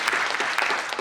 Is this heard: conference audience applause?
yes